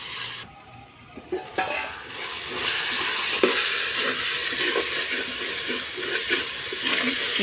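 Goat head curry masala frying in oil in a pot, a steady broad sizzle that rises after a quiet start, with occasional stirring scrapes, close and fairly loud, no talking.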